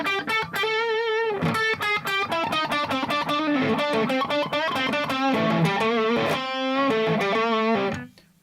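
A distorted electric guitar plays quick minor pentatonic licks on the lower strings. The notes come in rapid runs with sustained bends, loud and close, and no one talks over it.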